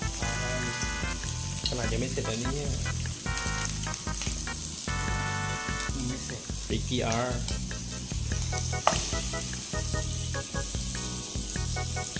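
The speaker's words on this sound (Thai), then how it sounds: "ตรงนี้ครับมันคือการทอดเรากำลังจะทอดแฮมเบอร์นะครับ" A hamburger patty fries loudly in a pan, a continuous close sizzle with hissing bursts, while music with a steady beat and melody plays throughout.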